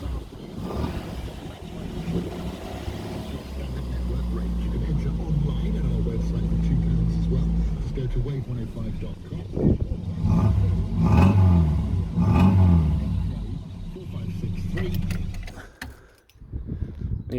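A 1985 Ford Fiesta Mk2 1100 engine idles with a steady low rumble and a vibrating front grille, running continuously beneath someone talking close by.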